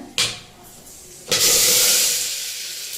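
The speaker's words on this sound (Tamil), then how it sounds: "வெங்காயம் போட்டுட்டேன், வெங்காயம் தக்காளி போட்டு நல்லா வதக்கிட்டு" Onion and tomato are dropped into a hot pan with cinnamon and cloves, setting off two loud hissing sizzle bursts, the second swelling into a sustained close sputter that fades slowly.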